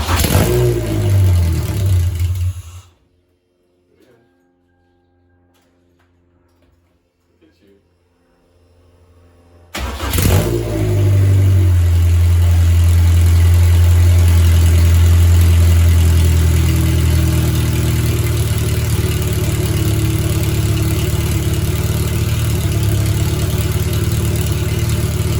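A project vehicle's engine runs loudly, then cuts out, leaving several seconds of near silence. It catches again with a burst of revving and settles into a steady, deep idle close by.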